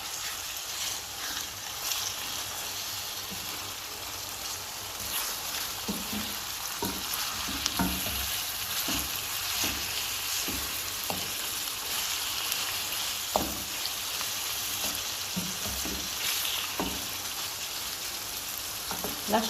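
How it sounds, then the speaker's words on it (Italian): Veal chunks for a stew with peppers sizzle steadily in a hot pan, a dense continuous crackle broken by occasional scraping clicks as the meat is stirred, close and fairly loud. "Ed ora aggiungiamo la carne in padella."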